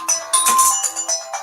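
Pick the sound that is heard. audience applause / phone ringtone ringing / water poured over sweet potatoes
phone ringtone ringing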